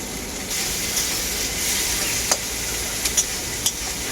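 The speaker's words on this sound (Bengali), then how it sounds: "ওই মাছ ভাজা তেলের মধ্যেই দিয়ে দেবো আমি কেটে রাখা পেঁয়াজ" Chopped onions with salt hit hot oil left over from frying silver carp, giving a steady close sizzle with a few sharp crackles and pops. No one speaks.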